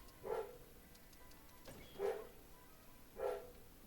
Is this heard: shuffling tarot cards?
no